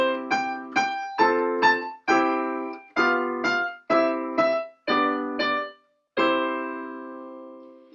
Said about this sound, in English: If I were to add chords, it would sound like this.